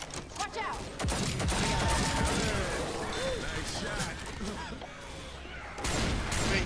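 Rapid gunshots in the video game Left 4 Dead 2, a near-continuous fusillade with loud sharp cracks over a busy game soundscape, with bursts strongest at the start and end.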